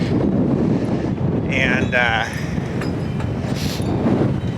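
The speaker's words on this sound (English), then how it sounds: "the wind's not going in a direction that is kind of blowing, it's not blowing directly at the structure" Strong wind gusting outdoors on the Maine coast after a storm, a steady loud rush of air buffeting the microphone with faint clinks and creaks mixed in, and no speech.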